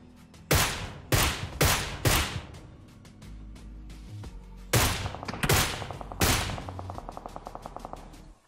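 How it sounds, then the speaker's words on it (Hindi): Loud video game gunfire during a battle royale match: several sharp single shots early on, then heavier bursts ending in a rapid automatic volley that trails off, with no talk. "अब देखो इसके ऊपर कोई फायर कर रहा है"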